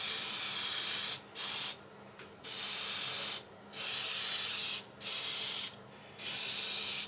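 An airbrush sprays in steady hissing bursts, five or six of them separated by short pauses, close and fairly loud, with no voices.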